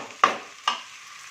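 Kerala-style beef curry sautéing with a little salt and masala, with two quick spoon scrapes against the pan over a faint background sizzle, close and brief.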